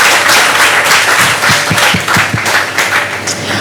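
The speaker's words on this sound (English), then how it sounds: "let's give another round of applause to these folks who've been out here tirelessly" A press club lunch audience applauds journalists who covered the Hong Kong protests: a steady, dense roar of many hands clapping, close and loud, with a few heavier individual claps standing out midway.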